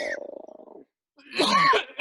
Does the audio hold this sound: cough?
yes